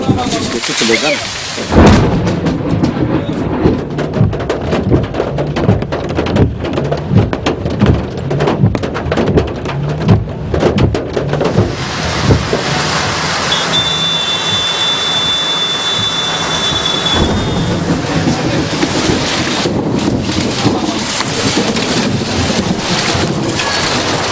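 Heavy rain with rolling thunder, loud and close, with rumbling bursts and steady wind-blown downpour throughout and a brief high whistle-like tone in the middle.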